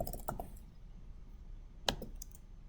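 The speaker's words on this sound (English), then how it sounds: "you'll just type your name" A few light computer keyboard clicks come in two short bursts, one at the start and one near the end, faint and close with a quiet background between them.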